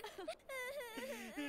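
A woman cries in wavering, high-pitched moaning sobs, close and fairly faint, in a single short outburst.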